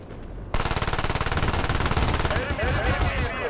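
Rapid automatic gunfire from the Battlefield Play4Free video game bursts in suddenly after a brief lull, a dense fast rattle of shots continuing loudly to the end.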